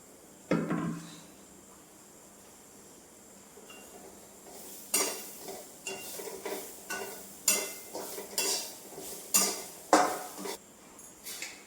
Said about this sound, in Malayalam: തേങ്ങയും കൊച്ചുള്ളിയും കറിയാക്കലയാണ് വറുക്കുന്നത്